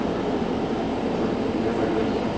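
The EIC Górnik express train pulls out of Sosnowiec Główny station with a loud, steady rumble and roar that carries on throughout, with no clear breaks.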